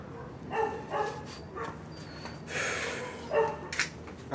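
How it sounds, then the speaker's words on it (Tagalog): Dogs bark in short bursts, several sharp yelps at moderate distance, alongside snorting and whimpering, with no talk over them. "Ingay naman ng mga aso dito."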